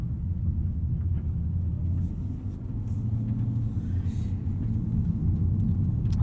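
2019 Lexus RC F driving along, a steady low engine and road rumble heard from inside the cabin, continuous and even with no speech.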